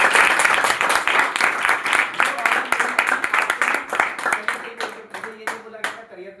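Audience at a live talk event applauds steadily for several seconds, dense overlapping claps close and loud, thinning toward the end into scattered individual claps.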